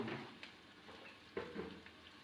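Curry leaves frying in oil in a pan: a soft, quiet sizzle with a few small crackling pops and stirring scrapes, close and faint, with no talk.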